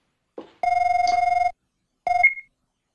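An electronic telephone rings in two bursts of warbling tone inside the game Goodbye Building's Maid, with a short click before the first burst and a gap between rings, loud and close with no voices.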